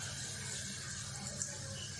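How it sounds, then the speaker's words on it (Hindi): Rice tipped into a pot of salted water at a rolling boil for Moradabadi chicken pulao, giving a steady watery rushing and bubbling wash that runs evenly throughout, close and fairly loud, with no talk. "अब हम चावल डाल देते हैं"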